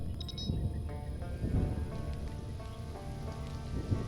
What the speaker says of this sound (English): We got some rain or a thunderstorm coming in.